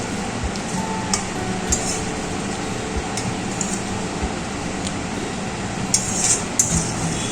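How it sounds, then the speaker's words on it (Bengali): Fried katla fish being turned and mixed with spices in a pan, with soft scraping and stirring clatter over a steady background hum, occasional sharper clinks of a utensil against metal. "মশলার সাথে মাছগুলোকে মিশিয়ে নিচ্ছি এপিট ওপিট করে।"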